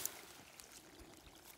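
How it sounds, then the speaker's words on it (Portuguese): Water runs and trickles at a country smallholding as a newly arrived supply flows, a faint, steady gurgling wash with small splashes, fairly quiet and continuous, with no voices. "Água escorrendo, olha o barulho."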